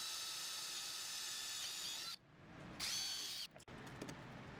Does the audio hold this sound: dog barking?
no